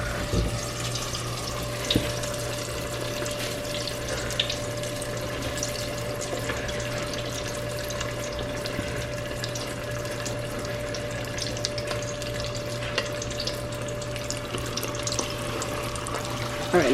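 Pieces of buttermilk-battered chicken are frying in hot oil, giving a continuous, even bubbling hiss with a steady low hum underneath.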